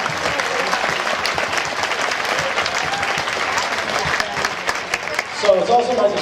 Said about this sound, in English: So I'd just like everyone in the stands to give a quick round of applause to all the volunteers who worked long and hard to put this event on.